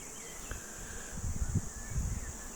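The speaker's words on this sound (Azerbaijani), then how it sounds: "Arılarımız işləyirlər" Honeybees hum around migratory hives in the chestnut and linden forests of Qax, a faint steady drone with a few louder low buzzes passing close, no speech.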